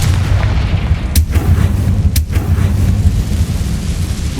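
A Confringo fire spell detonates in Hogwarts Legacy, two sharp blasts cracking out about a second apart over a dense, rumbling low game soundscape.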